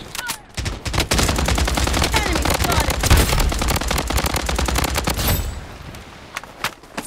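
Sustained automatic gunfire in the mobile shooter BloodStrike, loud rapid bursts of shots running for about five seconds before cutting off, with scattered single shots afterward.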